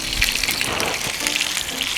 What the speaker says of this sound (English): Right into the pan it goes. Give that a nice hard sear.